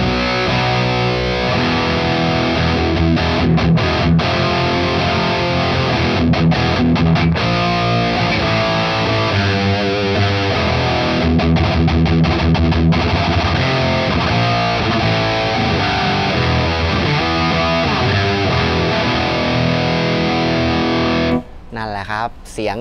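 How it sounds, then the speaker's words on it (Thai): An electric guitar runs through the GTR 6505 Fat Drive preset on a HeadRush Prime multi-effects unit, giving a loud, thick, heavily distorted tone with chugging riffs and sustained chords that play continuously and cut off abruptly at the end. "ลองดูอันแรกคืออะไรนะ GTR 6505 Fat Drive อันนี้น่าจะจำลองตู้อะไรครับเว้ย PV"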